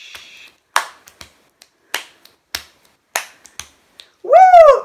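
Sharp finger snaps in a body percussion routine, about nine crisp isolated clicks spaced irregularly with silence between, close and dry, followed by a brief rising vocal whoop at the end.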